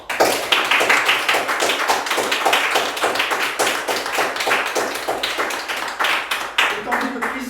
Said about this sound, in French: nous allons applaudir aussi à notre tour.